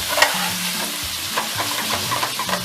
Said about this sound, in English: I'm just going to fry the meatball to golden brown